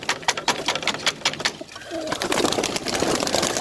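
Pigeons in a loft coo close by in a soft rhythmic series of low, throaty calls, with a wash of rain or rustling noise building behind them.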